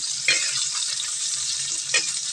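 Garlic and onion frying in a heated pan, meant as the base for a squid dish, giving a steady close sizzle with a few brief stirring scrapes and no talk.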